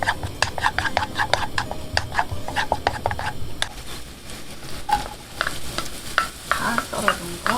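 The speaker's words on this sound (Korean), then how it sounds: "베이컨에서 기름이 나오니까" Bacon sizzles and fries in olive oil in a pan for a stir-fried spinach and bacon dish, with crackling pops and a steady hiss, louder and busier near the start and then settling into a softer sizzle.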